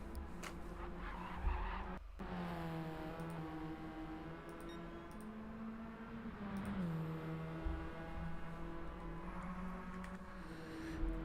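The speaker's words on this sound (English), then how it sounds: "Ooh, big slide there coming from Hair Razor." A Radical race car slides with sustained tire squeal during a Supercup circuit race, the engine droning and shifting pitch throughout, loud and continuous for several seconds.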